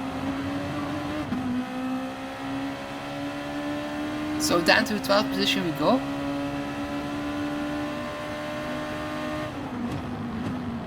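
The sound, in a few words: Gr.2 race car engine at Red Bull Ring, video game GT Sport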